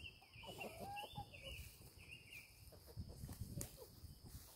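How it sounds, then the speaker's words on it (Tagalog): Chickens cluck and murmur nearby in a lively outdoor provincial farmyard in the Philippines, with scattered bird chirps and a steady background of farmyard noise. "Mga manok, magpahinga sila."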